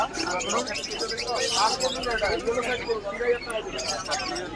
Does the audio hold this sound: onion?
no